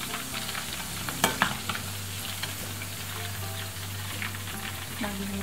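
Battered chicken fillet sizzles steadily in a frying pan, a continuous close crackle with a few sharper pops and faint clinks of utensils, no talking.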